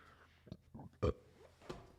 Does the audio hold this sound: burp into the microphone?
yes